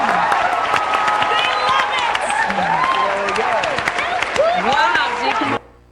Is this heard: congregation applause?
yes